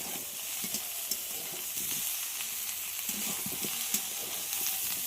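Steady sizzling and crackling of long-cut bottle gourd frying in a hot pan with vegetables, with a continuous hiss and occasional soft pops.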